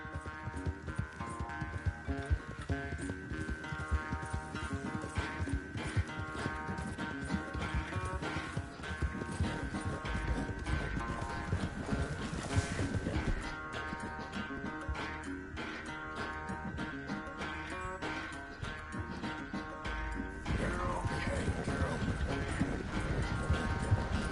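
Horse hooves pound along at a gallop in the Red Dead Redemption video game, a continuous rapid clip-clop mixed with game sound and music for the full stretch.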